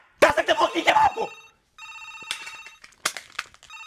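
A telephone bell rings in two bursts of a bright electronic trill, close and loud, just after a stretch of animated shouting and talk.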